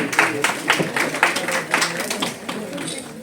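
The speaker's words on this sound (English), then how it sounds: "A round of applause for Mr. Wamsa." An audience at the Bharat Vibhushan Award 2024 ceremony applauds for Mr. Wamsa, a scattered, uneven patter of hand claps from a modest crowd, fairly close and continuing for several seconds.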